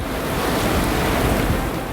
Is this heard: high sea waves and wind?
yes